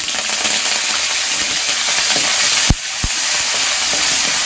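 Curry leaves frying in hot oil with cumin seeds, a loud, constant hiss and crackle close by, broken by two brief sharp knocks near the end.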